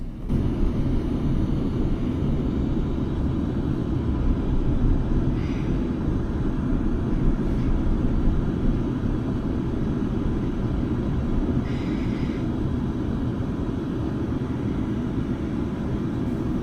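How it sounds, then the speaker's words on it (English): Interior of a London Northwestern Railway train leaving Euston, running quietly: a steady low rumble and broadband hum with no break, soft and even, with faint higher rattles now and then and no voices. "you can probably tell this train is really quiet"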